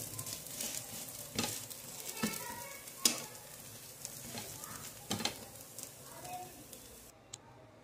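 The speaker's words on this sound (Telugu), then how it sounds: "కొంచెం ఆయిల్ వేసుకోవాలి. వెనక టర్న్ చేసుకోవాలి. మంచిగా రోస్ట్ చేసుకోవాలి దోశ." A jowar dosa roasts in oil on a hot pan, giving a soft, steady sizzle broken by scraping clicks as it is turned, with a voice talking faintly at times.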